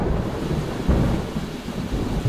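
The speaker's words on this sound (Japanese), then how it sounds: "あ、雨がまた急に降ってきた。" Thunder rumbles through a sudden summer rain shower after extreme heat in Gunma, a steady low roar of rain with a swelling rumble near the middle, no voices.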